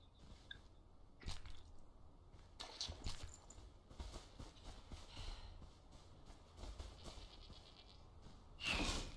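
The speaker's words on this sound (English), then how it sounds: "What's that, a sheep?" A sheep bleats in the Enshrouded video game amid soft footsteps and rustling, with a few brief bleats and clip-clop thuds, faint overall and ending in a louder burst.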